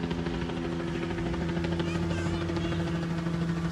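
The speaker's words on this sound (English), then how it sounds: "There's a helicopter above me." A helicopter flies overhead in a park, giving a steady, loud droning engine and rotor hum that fills the whole stretch without a break.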